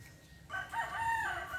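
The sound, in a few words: rooster crowing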